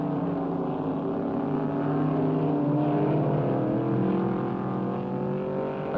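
AMC Javelin race cars on a racetrack, a continuous loud droning roar of engines with shifting pitch, sounding close and sustained without pause.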